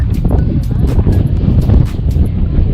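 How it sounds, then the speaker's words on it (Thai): Strong wind buffets the microphone on the summit of Mount Moiwa in Sapporo, a loud continuous roaring rush with gusty surges, and voices are faintly present beneath it. "ลมมันแรงมาก"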